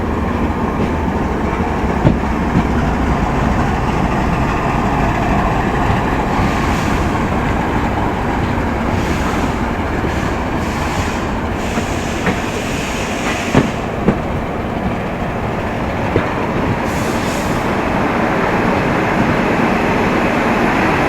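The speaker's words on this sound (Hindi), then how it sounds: "ये है WDG 4G ट्रैक्टर।" WDG 4G diesel locomotive at an Indian railway station, a loud continuous rumble with rail clatter and a few sharp metallic clanks, steady throughout with no talking.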